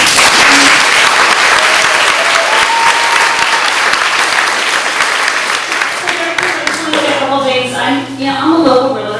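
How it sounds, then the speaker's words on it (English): A school district meeting audience in Pacifica applauds its teachers with loud, dense clapping that fills the room, easing off toward the end as a voice begins speaking over the last of it. "So everybody, please give them a big clap."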